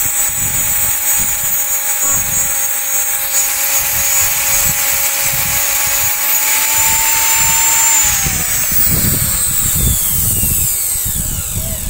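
A mixer grinder armature spins with a steady high whine while polish paper is rubbed against it, giving a continuous loud grinding and scraping texture with a tone that drops partway through.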